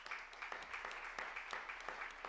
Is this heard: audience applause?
yes